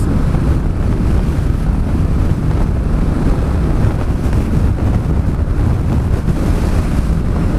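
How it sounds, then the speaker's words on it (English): Strong wind roars steadily across the microphone while riding a motorcycle on a touring trip near Mafra, Montejunto and salt flats, a dense continuous rumble from start to end with no break and no talk. "this is so much wind!"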